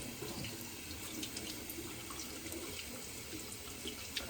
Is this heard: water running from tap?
yes